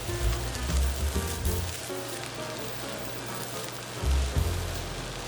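Fried rice with peas, chives and green onion stir-fries in a hot pan, a steady close sizzle with rattling scrapes and tossing bursts near the start and again toward the end.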